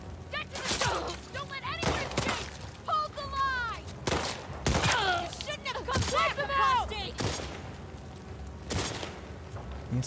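Gunfire from a machine gun in The Last of Us Part II on PS4, sharp repeated bursts and single shots spread through the span, loud and near, with a voice speaking over the game sounds.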